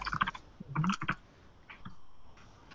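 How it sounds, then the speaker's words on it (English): Typing on a computer keyboard to enter sentences into an online lesson chat box, heard as quiet, close clicking keystrokes in a short irregular burst, then fading into soft background hiss. "I'm typing two sentences in the Verbling chat box."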